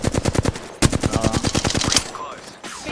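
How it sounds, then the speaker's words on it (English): Rapid automatic gunfire from a Rampart character in a video game: a dense burst of about a dozen quick, loud shots in steady rhythm, stopping abruptly and followed by quieter in-game sounds. "he's shooting his bullets"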